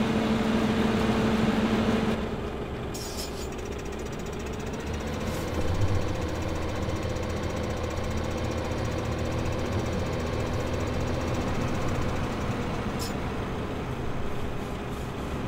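Steady tractor engine drone from Farming Simulator 2015, a low continuous rumble that runs alone throughout at moderate level.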